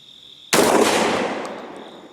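A Gforce GF25 shotgun fitted with a 20-round drum fires a single loud, close shot with a sharp crack and a reverberant tail that fades over about a second and a half. No talking.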